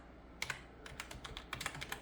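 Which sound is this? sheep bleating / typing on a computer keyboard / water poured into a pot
typing on a computer keyboard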